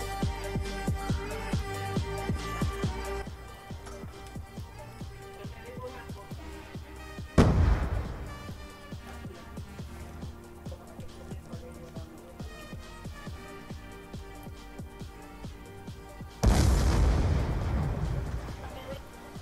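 Two heavy bomb explosions in a video game, each a sudden deep boom with a rumbling tail, heard several seconds apart over constant game sound and scattered clatter.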